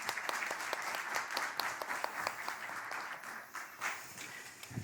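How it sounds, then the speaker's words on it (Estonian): Audience applause for a panelist at a panel discussion on keeping exotic animals, a fairly quiet but steady patter of many hands clapping throughout, with no speech on top. "Teeme Tiidule samuti suure aplausi."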